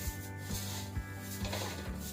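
Crispy dry-roasted poha (flattened rice) for chivda rustles and rasps as it is stirred, a repeated dry crunching with a soft pulse about every half second, close and alone.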